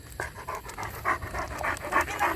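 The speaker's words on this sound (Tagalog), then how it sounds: "Ay, grabe na ang hingal." A Great Dane pants heavily in rapid, rhythmic breaths, close and fairly loud, each huff repeating steadily with no talk over it.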